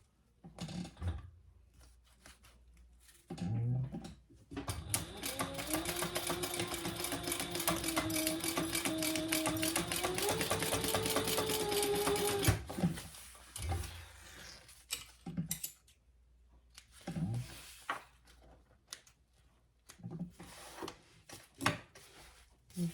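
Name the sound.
sewing machine stitching waist pack seam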